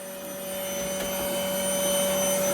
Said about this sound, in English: We use the same vacuum cleaner